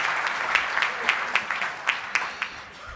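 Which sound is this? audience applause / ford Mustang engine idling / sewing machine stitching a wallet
audience applause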